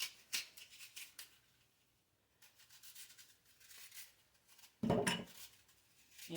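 Knife slicing through four apples on a cutting board, thin cuts for applesauce; scattered dry scraping and crisp chopping strokes, a louder cluster of cuts near the end, fairly close, no talk.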